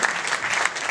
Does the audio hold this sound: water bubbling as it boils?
no